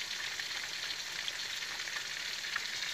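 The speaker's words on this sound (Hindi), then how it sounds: "मछली फ्राई हो रही है जनाब जी" Fish frying in hot oil outdoors beside the Indus river, a dense continuous crackling hiss, steady and close, with no voices over it.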